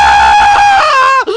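A tiny green cartoon man screams in an online video, one loud, strained, sustained high-pitched shriek that wavers, dips briefly near the end and then carries on. There is no talking.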